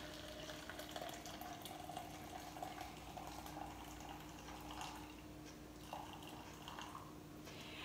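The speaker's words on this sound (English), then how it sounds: "you're gonna use your hot water that's already pre-boiled and prepared for you" Pre-boiled hot water, about fourteen ounces, streams steadily into a shaker for a Keto Chow shake mix, a faint continuous trickle and gurgle with a low hum underneath.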